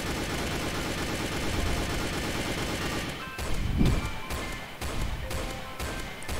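Gunfire in the Roblox game Mad City during a volcano boss fight, a dense run of rapid shots with heavy thuds partway through, loud and continuous over game music.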